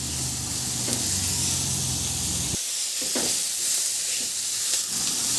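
Chopped onion and tomato saute in a hot pan with a continuous sizzling hiss and a few soft stirring clicks; a low hum drops out partway through, leaving the sizzle alone and close.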